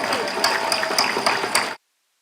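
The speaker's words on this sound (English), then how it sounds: "One big round of applause for the class of" Applause from a graduation pinning ceremony audience rings out as a steady wash of clapping with sharper peaks, then cuts off abruptly near the end.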